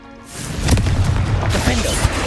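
A Confringo spell explodes in Hogwarts Legacy, a loud, rumbling boom with a whooshing burst that rolls on for about two seconds, close and heavy.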